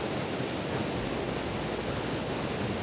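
A river swollen with spring snowmelt rushes steadily nearby, a dense, continuous roar of flowing water with no pauses or voices.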